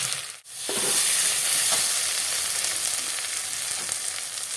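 Frying spice masala for a mourola fish and brinjal curry crackles in a pan, briefly interrupted by a sharp knock before a loud, steady, close sizzle resumes, with faint stirring and no voices.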